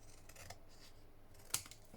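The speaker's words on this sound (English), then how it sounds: "I'm just going to take my scissors, having already folded it, and I'm just going to trim" Scissors trim folded paper for a papercraft project, with one quiet, sharp snip heard alone against faint background rustle.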